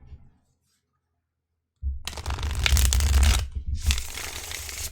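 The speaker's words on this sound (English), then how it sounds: "I just cannot shuffle today." Tarot cards being shuffled by hand, two close riffling bursts of papery flutter after a short silence, the first longer and louder than the second.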